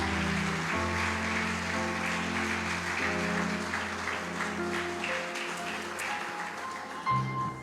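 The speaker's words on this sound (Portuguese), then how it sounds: "Dê mais um forte aplauso ao Senhor." A church congregation gives strong applause during a Sunday celebration service. Sustained clapping blends with held musical tones from the band and fades slightly toward the end.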